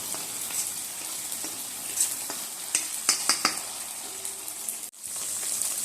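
Oil sizzles steadily in a pan with a few sharp clicks and scrapes as chili sauce is stirred into dragon chicken, close and continuous with no talking.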